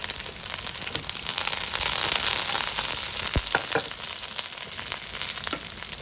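Spices and curry leaves sizzle steadily in hot oil while a chicken kulambu is tempered, a dense continuous fry with sharp pops and crackles bursting through, close and loud, with no talking.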